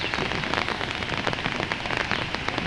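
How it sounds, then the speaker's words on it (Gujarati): A steady, dense rush of water flowing from an upper pond into a lower pond during heavy rain pours without pause, close and fairly loud, with no voices. "પાણી ઓલા તળાવનું ઉપરથી આવી અને આ તળાવમાં ગળી ગયું"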